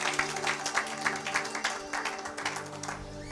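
A church congregation applauding during a sermon, steady rhythmic clapping throughout, moderately close, with a faint sustained musical tone beneath.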